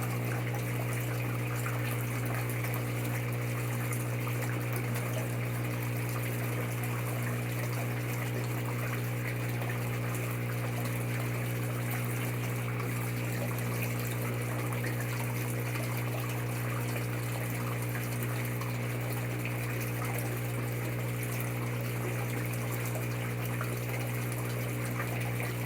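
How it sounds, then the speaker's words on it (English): An aquaponics protein skimmer pump runs in a flood-and-drain media bed system, giving a steady, unbroken mechanical hum under a constant wash of flowing water. No one speaks. "the protein skimmer's working again"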